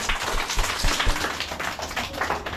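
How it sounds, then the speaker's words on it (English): A group of schoolchildren at a community school in Kibera clap together close by, with irregular hand claps and taps running through the whole moment. "Aya, clap for Bravin"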